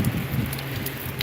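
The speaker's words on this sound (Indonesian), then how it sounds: "sekarang sudah mulai turun angin dan disertai hujan" Wind-driven rain pours at a bus terminal during a heavy storm, a constant broadband hiss of rainfall with low gusty rumble, no voices.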